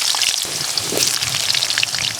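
Potato pieces dropped into hot oil already seasoned with bay leaf, garam masala, cumin, coriander and radhuni, giving a steady, dense sizzle and crackle close by, with no voices.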